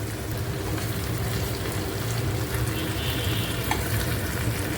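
Mutton pieces going into a hot pan of spiced masala for mutton do pyaza, giving a loud, steady, dense sizzle and crackle that runs without a break.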